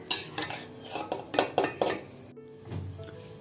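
A ladle or spoon scrapes and clinks against a cooking pot while sweet jaggery rice is dished out, with a quick run of sharp metallic knocks followed by softer scraping.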